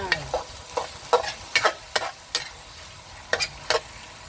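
A spatula scrapes and tosses glass noodles with chicken and cabbage in a hot pan, making about ten close, crisp stir-fry strokes in an uneven rhythm, with no talking.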